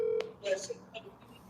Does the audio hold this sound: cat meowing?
no